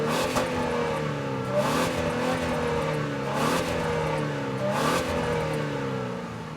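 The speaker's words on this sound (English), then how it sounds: "Let's take a second and listen to that exhaust note." A 2021 Genesis G80 turbo with dual stainless exhaust and chrome tailpipe finishers revs repeatedly, its engine note rising and falling in steady sweeps, loud and close, with no talking.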